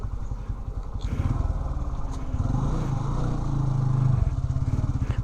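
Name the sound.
motorcycle being ridden in and parked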